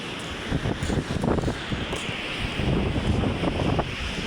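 Strong wind buffets the microphone in a steady, roaring rush with gusty surges throughout, no voices heard.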